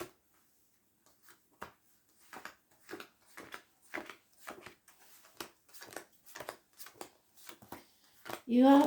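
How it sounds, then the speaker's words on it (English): A deck of cards is shuffled in repeated soft riffling bursts, fairly close, with a louder clatter at the end. "I could shuffle."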